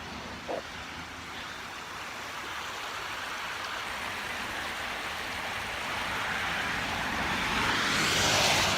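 Steady broadband rush of creek water running continuously, growing slightly louder and brighter toward the end, with a brief faint knock near the start and no voices.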